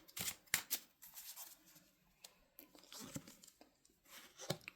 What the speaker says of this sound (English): lay the cards down.